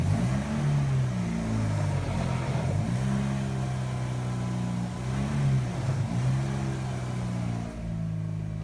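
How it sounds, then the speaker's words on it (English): A Mazda RX8 with a damaged ball joint moves in reverse for a short distance, its engine humming steadily at low, wavering revs throughout, close and continuous with no talk. "So I reversed the car a little bit just so I can put the jacks under."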